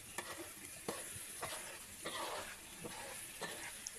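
Eggs with canned fish, shallots and chili stir-fry in a pan, a faint, steady sizzle broken by regular scraping strokes of a spatula, about one every half second.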